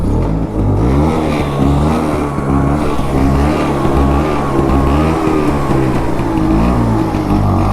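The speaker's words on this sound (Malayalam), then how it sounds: "ഇതാണ് ഇതിൻ്റെ എക്സോ സൗണ്ട് എന്ന് പറയുമ്പം." A running LML Vespa scooter's two-stroke engine and exhaust drone steadily up close, with the revs rising and falling as the throttle is worked. No voices are heard.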